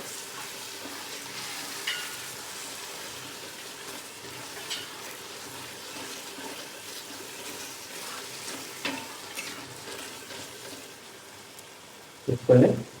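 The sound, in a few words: stirring biryani masala with added curd in a pot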